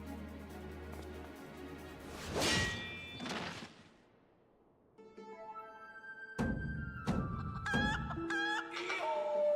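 A chicken in Final Fantasy XIV clucks and squawks in several loud bursts, separated by a quiet gap, with metallic game chimes and clangs ringing alongside.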